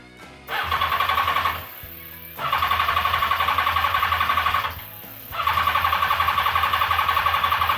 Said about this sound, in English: I hope that's enough to fire up the bike, and then see if everything we did worked out.